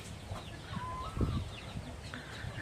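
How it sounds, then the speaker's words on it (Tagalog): Chickens cluck softly over a low outdoor farm background, with a few short squawks and one drawn-out call partway through. "May papakain sa mga manok."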